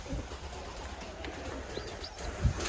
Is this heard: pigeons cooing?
yes